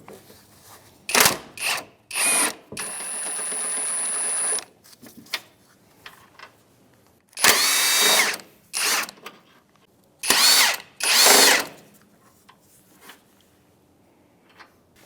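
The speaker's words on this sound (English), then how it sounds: "We're going to use an impact gun with a swivel on it." Impact gun fitted with a swivel zipping off the strut top nuts on a 2011-2017 Honda Odyssey, several short loud hammering bursts with quiet gaps between them, including one longer sustained run, with no talking.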